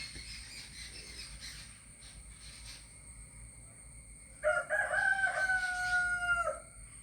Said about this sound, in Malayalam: നമ്മുടെ കോഴിപ്പോവൻ നല്ല കൂവലാട്ടോ അപ്പം അവനിപ്പോൾ സമയമായിട്ടുണ്ട് കൂവാനുള്ള സമയമായിട്ടുണ്ട്